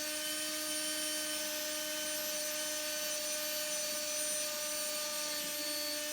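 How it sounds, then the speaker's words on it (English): A power drill bores into the bottom of a wooden bluebird nestbox, giving a steady, continuous motor whine with no pauses. It is moderately loud and heard alone, without talk. "Or you can take a screwdriver, a drill, and just drill into the bottom like this."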